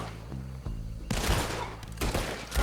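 A gunfight in Red Dead Redemption 2: bursts of rapid gunfire crack and boom in clustered volleys, loud and close, with a heavier roar of shots after the first second and no speech.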